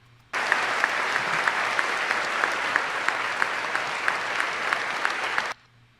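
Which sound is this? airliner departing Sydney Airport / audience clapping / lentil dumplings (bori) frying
audience clapping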